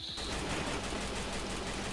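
Rapid, dense gunfire from the Free Fire battle royale video game rattles on continuously, loud and close throughout, with no speech.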